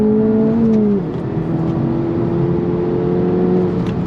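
A 2024 Acura Integra Type S with a six-speed manual pulls hard on throttle in third gear, its engine note holding a steady rising drone close by after a short dip, with no talk.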